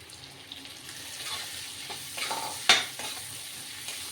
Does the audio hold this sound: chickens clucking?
no